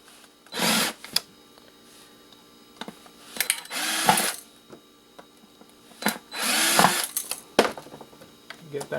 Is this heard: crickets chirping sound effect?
no